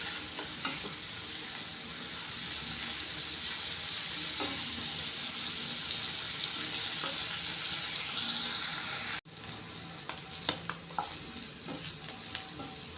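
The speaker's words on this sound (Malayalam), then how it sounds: "കുറച്ച് ജസ്റ്റ് ഒന്ന് ഫ്രൈ ചെയ്തെടുത്താൽ." Paneer frying in butter in a kadai for palak paneer, a steady, close sizzle with occasional stirring scrapes and clinks throughout, and no talking.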